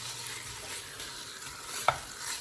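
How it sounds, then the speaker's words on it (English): Ground beef hits hot oil in a soup pot, giving a soft steady sizzle with light stirring scrapes and one sharp utensil clink near the end. "Now I'm gonna add the ground beef. Just give it a bit of a sear."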